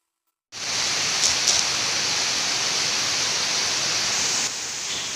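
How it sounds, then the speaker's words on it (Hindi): Heavy rain pours steadily outside a window, a dense, even hiss that starts abruptly and holds loud and close throughout, easing slightly near the end, with no talking. "इतना तेज़ बारिश हो गया था, मतलब बारिश तो खैर हो ही रहा था, लेकिन फिर से उसका मतलब वो बढ़ गया इसका"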